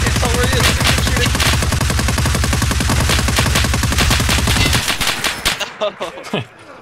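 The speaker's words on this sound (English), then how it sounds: "Oh, that M60. Oh, it's already in. I'm shooting." An M60 machine gun in Escape from Tarkov Arena rattles in a long, loud, steady automatic burst of rapid evenly spaced shots, then cuts off into a few scattered echoing reports and fading tails.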